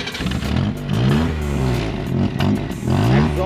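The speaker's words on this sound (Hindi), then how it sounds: "तो ये इसका एग्जॉस्ट था, काफ़ी सही एग्जॉस्ट है" Exhaust of a black 1993 Maruti 800 car revving repeatedly, rising and falling engine notes close by and loud, with a clattery idle between blips.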